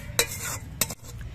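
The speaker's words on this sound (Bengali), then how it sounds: "নারকেল কুড়াগুলো ভাজতে ভাজতে ঝরঝরা হয়ে গেছে।" Grated coconut being stirred while it roasts dry in a pan, two quick scraping strokes of a utensil against metal over a faint steady sizzle, close by.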